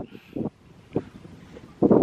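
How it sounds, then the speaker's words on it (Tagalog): Strong wind gusting across an open hilltop viewpoint in Candijay, Bohol, buffeting the microphone in uneven bursts, with a loud gust at the end and quieter lulls between. "kusog sa hangin"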